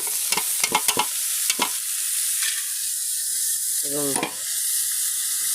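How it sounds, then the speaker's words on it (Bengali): Cumin seeds sizzle in hot oil with a bright, steady hiss, punctuated by stirring clicks and scrapes, and a brief voice speaks near the end. "জিরা দিয়ে দিয়ে জিরাটা একটু ফুটবে"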